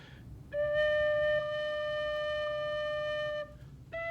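Two notes on a bamboo flute: a long, steady tone starts after a brief quiet, steps up slightly in pitch partway through and is held for about three seconds, then after a short gap another note begins.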